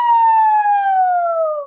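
A voice imitates a siren during a vocal warm-up, one clean falling glide of about two seconds, loud and close, with no background sound.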